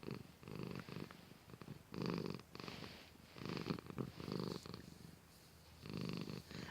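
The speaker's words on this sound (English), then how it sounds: "can you hear Zoe purring?" Zoe, a pet cat, purrs up close in a soft, steady rhythm, each rumbling breath swelling and fading in turn with brief pauses between, with no other sounds.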